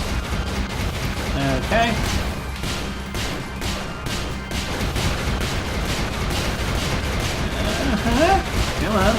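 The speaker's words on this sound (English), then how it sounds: "It's a Gatling laser." Gatling laser firing in the video game Brigador, rapid continuous bursts of crackling shots with explosions mixed in, loud and dense; someone speaks briefly over it.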